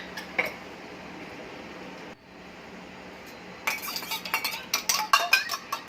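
Egg white being whisked with a pinch of salt in a bowl, a quiet stretch giving way to quick, uneven clinking and scraping strokes that grow busier toward the end.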